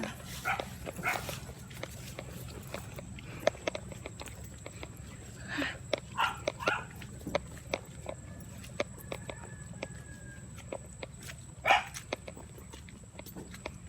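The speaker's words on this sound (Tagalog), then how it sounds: "May aso." A few short dog barks ring out in the distance over steady low background noise, scattered across the clip.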